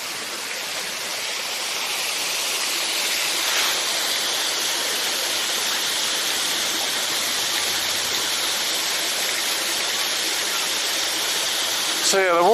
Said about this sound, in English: Sounds like the water's going in.